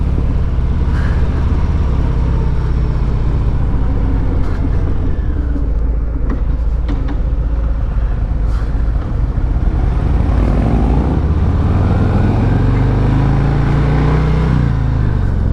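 A 2023 Harley-Davidson Fat Boy 114 motorcycle cruising down the road, its loud, steady low engine rumble and wind noise continuous throughout, with a rising drone near the end as it pulls.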